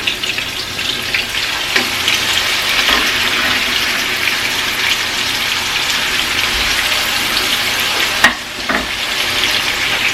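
Chicken pieces sizzle steadily in hot oil for a gyro, a loud, continuous close frying hiss with brief pops and splatters and no talking.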